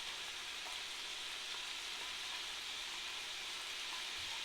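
Beef and onion browning in a frying pan for beef stroganoff, giving off a steady, faint sizzle and crackle of frying with no voices over it.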